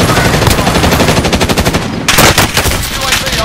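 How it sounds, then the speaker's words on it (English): Rapid automatic gunfire from a PlayStation 4 battle royale game crackles in dense, loud bursts, briefly pausing before another sustained volley, with a faint voice underneath. "Shooting at me!"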